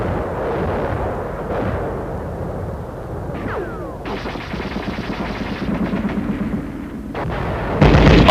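Machine gun fire during combat in deep snow and extreme cold crackles in rapid bursts, with sharp repeated shots, a distant rumble beneath, and a louder blast near the end.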